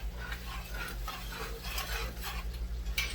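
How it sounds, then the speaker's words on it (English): A spoon stirs a Manchego beef casserole in a pot, soft scraping and gentle bubbling sizzle repeating over a steady low hum, fairly quiet and close. "I'm just going to give it a quick stir"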